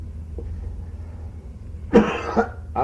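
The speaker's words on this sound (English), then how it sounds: "that cough was a professional cough" A single short cough, then a softer second one, rises over a low steady background hum, fairly close.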